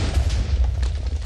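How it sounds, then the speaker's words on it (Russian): A deep, rumbling explosion in a Minecraft trap-building battle game, a sustained low boom filling the short moment with no talk over it. "Ну, как что было? Взрыв."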